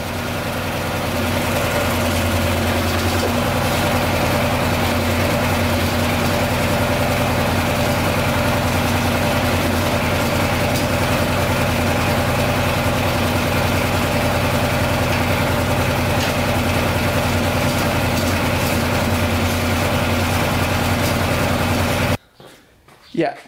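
Engine of a Polaris 500 4x4 ATV running steadily at idle, a close, loud, even rumble with constant vibration that cuts out near the end, leaving a few faint knocks.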